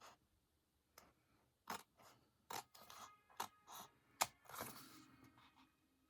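Scissors trim a piece of paper in several sharp, separate snips spaced through a quiet room, close and crisp against near silence, with faint rustling between cuts.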